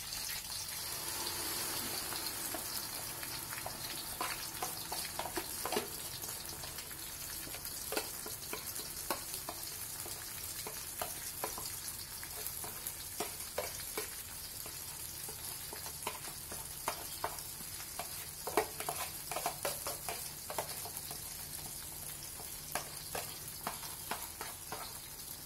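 Ground spice paste frying with shallots and pandan leaves for jengkol rendang in a hot pan: a constant close sizzle, broken by frequent sharp scraping clicks of stirring, steady and unhurried throughout.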